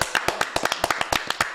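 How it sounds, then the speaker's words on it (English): A run of seven quick, sharp hand claps in a fast, even rhythm, close and clear, with no talking. "Seven claps."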